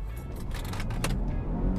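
A 2020 Volvo S60 T8 R-Design in sport power mode gathers speed from a launch, its engine and road noise rising into a steady, moderately loud drone with a brief swell near the middle, no talking over it.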